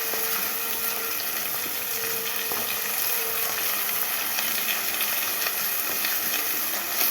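Vegetables being sautéed in a pan with salt and turmeric give a steady, close sizzle, continuous and even with faint clinks, no talking.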